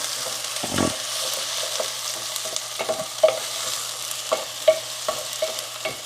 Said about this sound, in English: I wanted to quickly saute my onions